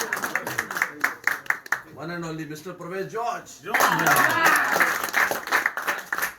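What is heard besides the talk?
audience applause at cricket festival anniversary ceremony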